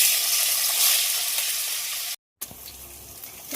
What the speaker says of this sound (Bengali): তেল গরম হয়ে গেছে, এবার পনির ভাজার জন্য ছেড়ে দেবো